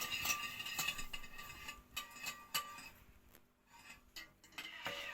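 Eggs and sugar beaten in a bowl for a simple chocolate-free soufflé, giving quiet repeated clinks and taps of a whisk or fork against the bowl in an irregular rhythm, close by with no voices.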